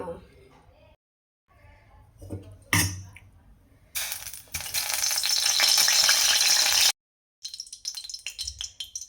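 Frying in hot oil for a dhaba-style guar bhaji: a soft sizzle and clatter give way to a loud, dense hiss lasting several seconds, which cuts off and returns as lighter crackling, with some speech early on.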